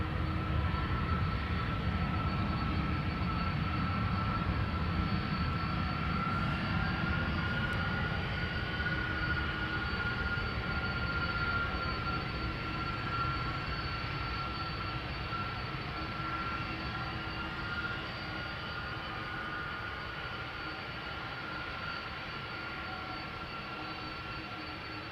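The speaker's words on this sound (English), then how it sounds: "Alright, next up Delta Airlines flight 135 to Detroit, Michigan, A330-300, 19 years old" A 19-year-old Delta Airlines Airbus A330-300 departs Amsterdam Schiphol for Detroit, a steady low jet rumble with a faint engine whine, fairly distant and slowly easing off.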